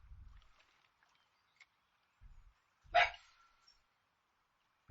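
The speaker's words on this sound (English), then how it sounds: "Every time I try to record, the dogs lose their minds." Dogs bark indoors in a few short, separate bursts. A louder bark stands out near the middle against an otherwise quiet room, with no talking.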